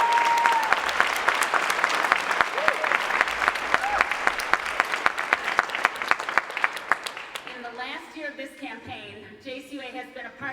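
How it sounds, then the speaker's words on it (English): A crowd at a community meeting on trauma care applauds, a roomful of clapping that gradually thins and dies away before a voice begins speaking. "Please join me in a round of applause."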